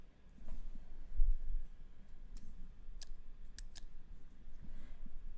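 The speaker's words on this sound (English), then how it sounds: "I want to make sure I cut off plenty of string." Scissors cutting string for a plant trellis, a few crisp snips close by over soft background noise, with no talking.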